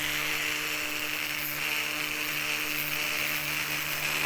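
A rotary tool fitted with a ceramic tip grinds steadily on a miniature townscape piece for a cone-shaped cape or dress. It makes a continuous close, high whine with no breaks and no speech.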